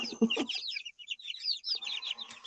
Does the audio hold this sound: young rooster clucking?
yes